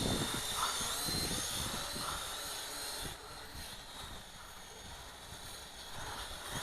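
A HuaJun U-Fly W606-3 quadcopter drone flies outdoors in a light breeze, its rotors giving a steady, fairly loud whirring buzz throughout with small changes in pitch as the throttle shifts.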